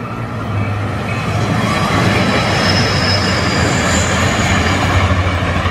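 A Caltrain commuter train rolls past at close range with a steady, loud rumble of wheels on rail and a faint high metallic squeal riding above it, building slightly and holding throughout.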